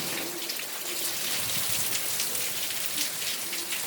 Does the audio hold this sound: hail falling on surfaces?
yes